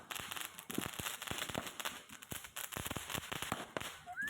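Small firecrackers and fireworks set off for Vishu burst in a rapid, irregular series of sharp cracks and pops, close and fairly loud, with faint background noise between the bangs.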